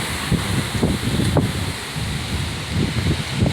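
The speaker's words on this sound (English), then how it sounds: "it's still quite windy" Steady gusty wind buffeting the microphone, a continuous low roar with occasional rustling bursts, no voices.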